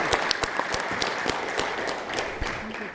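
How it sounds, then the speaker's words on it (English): An audience at a school board of education meeting claps steadily, a dense patter of many hands with a few sharper individual claps standing out, fairly close and continuous throughout. "give her another round of applause for all that hard studying"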